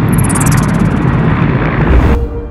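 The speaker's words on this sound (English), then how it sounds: "The Mi-8 helicopter made a forced landing on snow-covered terrain" A Mi-8T helicopter making a forced landing on snow-covered terrain near Dudinka, Russia, after main gearbox vibration. A loud, close, continuous engine and rotor roar holds steady, then drops away sharply near the end.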